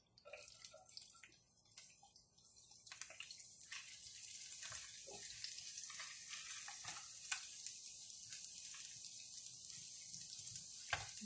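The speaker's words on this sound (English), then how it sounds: "So in the same pan, I'm going to go ahead and add the" Garlic sizzles quietly in the same pan used for a Caribbean chicken curry, a steady soft crackle with small pops and nobody talking.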